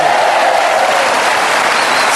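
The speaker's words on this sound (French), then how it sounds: "Et Jean-Michel Jarre, vous pouvez applaudir" A French TV show's audience applauds Jean-Michel Jarre, a dense, loud, continuous burst of clapping heard alone.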